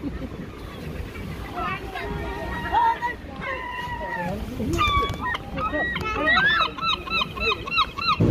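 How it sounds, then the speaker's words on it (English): Seagulls call loudly and repeatedly at the beach in Scarborough, their honking cries rising over wind and nearby people talking. "Seagulls are wanting your burger."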